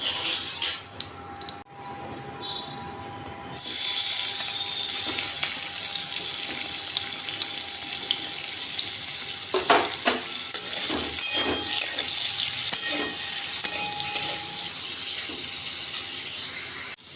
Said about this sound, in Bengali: পনিরটা আমি একটু ভেজে নেব।